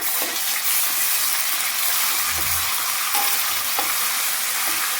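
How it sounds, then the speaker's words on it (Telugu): Ginger and onion paste fries for an Ullikadala chicken fry, a loud steady sizzle in the pan with occasional stirring scrapes, continuous and close, no voices. "కొంచెం వేగనిద్దామండి ఇది కలుపుకున్న తర్వాత"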